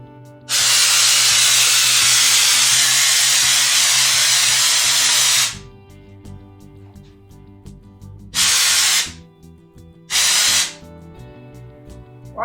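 Drywall texture sprayed around a skylight hole, a loud close hiss of the sprayer running for about five seconds, then two shorter bursts after pauses filled with a low compressor hum.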